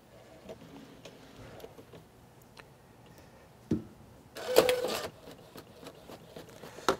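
A small portable printer running, quiet mechanical ticks and clicks followed by a louder whirring burst of feeding and printing, close by with no talking.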